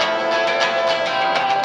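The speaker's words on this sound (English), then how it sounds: "A hissing sound like this." A hissing sound effect like a Fourth of July rocket in a 1938 radio drama, a steady, loud, bright rushing hiss with faint tonal whistles and small swelling surges, heard alone without voices.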